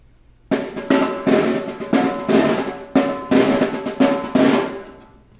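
A Brazilian caixa snare drum struck in a steady pattern of about ten crisp, bright hits with a fairly even rhythm, loud and close, alone without voices, the final strokes ringing out briefly.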